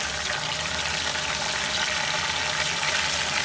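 Mutton for nalli nihari fries with garlic in a pan, giving a dense, even hiss that stays steady and close throughout without any voices.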